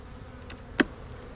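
Honeybees in an opened hive that is light on honey make a faint background hum, and one bee buzzes close past the microphone in a single brief pass.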